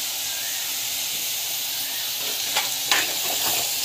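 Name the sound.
asafoetida sautéing in hot oil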